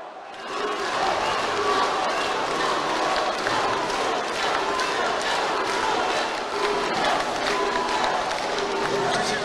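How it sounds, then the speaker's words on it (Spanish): A large crowd at a Bolivian outdoor political rally for the president claps and cheers loudly and without a break, a dense roar of applause with shouts and whistles mixed in. "¡Fuerte el aplauso!"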